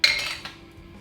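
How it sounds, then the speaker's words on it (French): A spoon stirs homemade lime and mint rum in a glass jar, giving a sharp clink at the start and a second knock partway through, with faint scraping after. "Donc là, on va remuer un petit peu."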